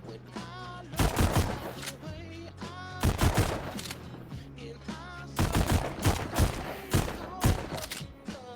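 Rapid gunfire bursts from a VR shooter game on Quest 2 come in repeated loud volleys separated by short pauses, with game music and effects continuing underneath.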